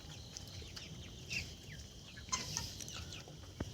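Chickens on a small poultry farm cluck softly in scattered bursts, a faint low murmur of the flock with a couple of sharper calls standing out.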